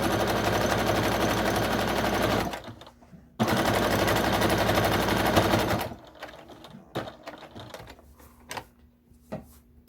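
A sewing machine top stitching cotton fabric runs in two loud, steady mechanical bursts of rapid stitching separated by a short pause, then falls to light handling clicks and taps.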